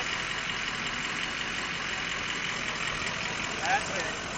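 Porsche 944 engine idling low and steady while the car backs up slowly, a faint, even drone with a short bump in level near the end and no clear voices over it.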